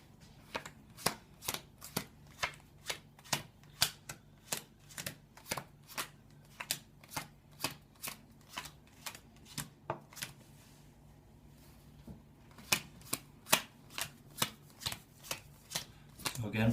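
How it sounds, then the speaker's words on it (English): Playing cards riffled and bridged again and again during a magic trick, crisp ruffling bursts in a steady rhythm with short pauses, up close and fairly quiet. "so I'm going to be shuffling them in as well."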